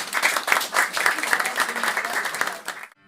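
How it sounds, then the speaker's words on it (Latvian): Warm, sustained applause from an audience at a memorial gathering held in an actor's museum in Latvia, dense steady clapping that fades out abruptly near the end. "Aplausi!"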